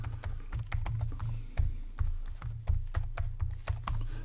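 Rapid, uneven clicking of keys on a computer keyboard as an email address is typed, close and steady with a few louder strokes and no talk.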